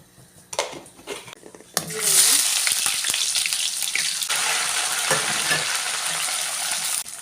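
Half a spoon of mustard seeds hits hot oil in a pan with a sudden loud sizzle that stays steady and crackling to the end, after a few faint knocks of utensils at the start.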